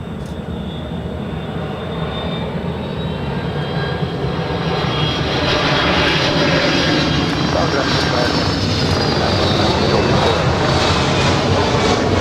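Jet airliner landing on runway 24 right at LAX, a loud sustained engine roar and whine that swells as it nears and stays close, with radio voices talking over it.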